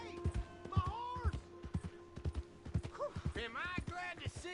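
Horse hooves clop in Red Dead Redemption 2, a quick run of close, irregular thuds, while voices and a whinny-like call rise over them.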